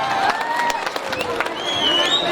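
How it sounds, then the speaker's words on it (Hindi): Crowd at a beauty pageant in Kaza, Spiti, claps and cheers for a round, uneven bursts of hands with scattered shouts at moderate distance, fairly faint overall. "तो इस राउंड के लिए एक बार जोरदार तालियां हो जाए"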